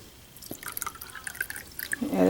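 Treated water being poured into a beaker for a calcium carbonate stability test, with soft drips and splashes building into a louder, steadier liquid stream toward the end, close by.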